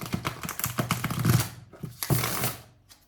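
Tarot cards are shuffled by hand in a rapid series of crisp riffling clicks and flutters, close and fairly soft, with a short pause before another burst of shuffling.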